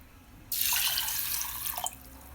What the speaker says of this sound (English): Add 1 cup water.